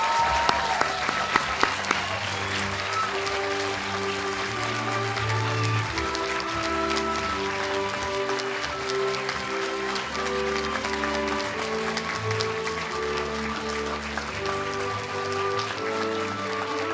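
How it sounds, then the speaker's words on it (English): A commencement ceremony crowd gives the graduating class a big round of applause, with steady, full clapping lasting throughout as ceremonial music plays underneath. "Let's give a big round of applause for the MBS class of 2011."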